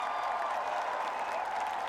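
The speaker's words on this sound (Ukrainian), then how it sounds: "Його вітали аплодисментами, молитвами і сльозами радості." A large crowd of pilgrims at St. Peter's Basilica greets the newly elected Chicago-born pope with a steady, distant roar of applause and cheering that blends into a continuous wash of sound.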